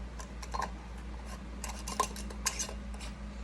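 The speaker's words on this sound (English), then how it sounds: "Set your lid on, put your ring on." A metal canning lid and screw band set onto a glass jar of candied jalapeños give a few light, close metallic clicks and taps over a quiet hum.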